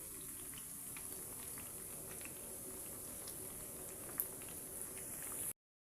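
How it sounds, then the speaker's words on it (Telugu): Bread pieces deep fry in oil for double ka meetha, a faint, even bubbling hiss with tiny scattered pops, one sharp tap near the end, then silence as it cuts off. "ఈ విధంగా ఆయిల్లో వేసుకొని బ్రౌన్ కలర్ వచ్చేంత వరకు వీటిని ఫ్రై చేసుకోండి"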